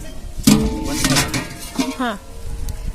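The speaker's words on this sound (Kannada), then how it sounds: "ಈ ಪಾತ್ರೆನ ಉಪಯೋಗಿಸೋಣ ಅನ್ಕೊಂಡು ಎರಡೂ." Metal cooking pots being handled in a home kitchen, meant for biryani and chops, with a few close clanks and scrapes of cookware while a voice talks briefly nearby.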